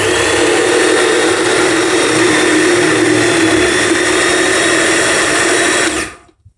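A small kitchen food processor grates a bell pepper, its motor whirring loud and steady for about six seconds before cutting off abruptly and spinning down to silence.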